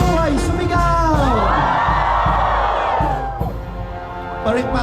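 Crowd of devotees shouting in response at a church fiesta for Nuestra Señora de Salambao in Obando, a loud sustained mass yell filling most of the clip, fading briefly near the end.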